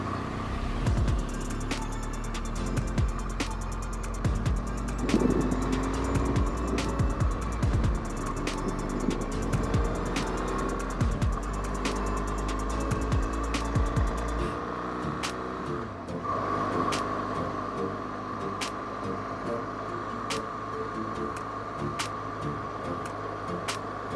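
A car cruising along a highway on a long overland drive from the UK to Pakistan, with a steady engine and road hum, recurring sharp ticks and clicks from inside the cabin, and no talking.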